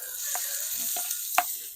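Steady sizzling of pork fat frying in oil in a pan, with a few soft scraping stirs and clinks, close and continuous.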